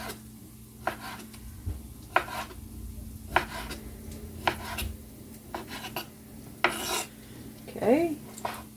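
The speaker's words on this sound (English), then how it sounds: "And I'm going to cut it into strips. And then I'm going to cut those strips into pieces." A knife slices a chicken breast into strips and then pieces on a cutting board, giving a series of sharp, separate chops and scrapes at an uneven pace, close and fairly clear, with no talking.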